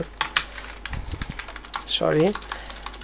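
Typing on a computer keyboard while writing in MS Word: quick, uneven clusters of close key clicks, with a brief murmured voice partway through.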